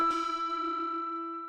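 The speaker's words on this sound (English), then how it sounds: "Then final sound I added is just this a little like bell one shot." A single bell one-shot sample used in a dark trap beat strikes once and rings out with a bright, sustained metallic tone that slowly decays over about a second and a half, heard alone.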